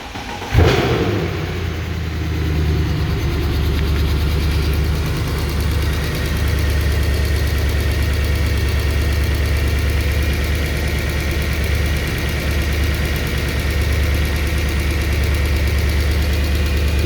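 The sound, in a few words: car engine starting and idling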